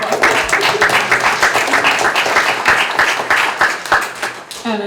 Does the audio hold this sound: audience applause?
yes